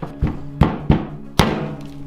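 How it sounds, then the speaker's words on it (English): Four sharp, heavy knocks at uneven intervals as a hammer strikes and shatters a pencil, each a hard strike with a short ringing decay, close by. "The pencil's just shattering on it."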